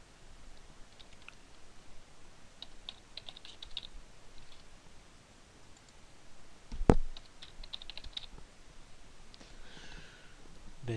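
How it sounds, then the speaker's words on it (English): Quiet typing on a computer keyboard: irregular runs of soft, close key clicks with one sharper, louder tap partway through, in an otherwise silent room. "I'll type in my name."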